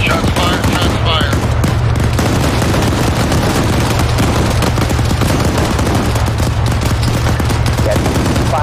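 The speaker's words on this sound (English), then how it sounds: "Shots fired, shots fired." Rapid bursts of automatic gunfire and scattered shots crackle continuously through an ARMA 3 military convoy firefight in Fallujah, loud and dense over a low engine rumble, with shouted voices mixed in.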